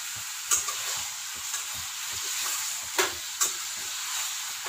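Chicken fries with onions in a pan over a high flame, giving a continuous sizzle and hiss. Brief scraping stirs break in now and then, with no talking.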